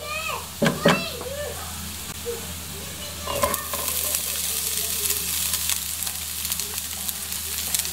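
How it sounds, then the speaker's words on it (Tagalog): Sliced onion is added to browned garlic for pork giniling and begins to sauté, the sizzle swelling loud and steady after a few seconds; a voice speaks briefly early on. "Ngayon, isusunod na natin yung sibuyas."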